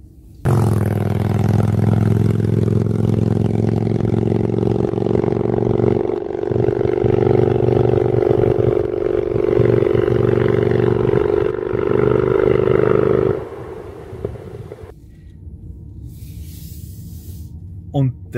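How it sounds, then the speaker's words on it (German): A loud, rumbling Harley-Davidson motorcycle with a flap exhaust roars steadily with throaty revs for several seconds, then cuts back to a quieter idle near the end. "Und das Letztere war ich mit meiner Harley."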